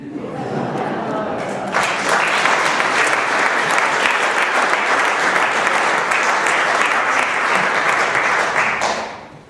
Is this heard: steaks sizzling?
no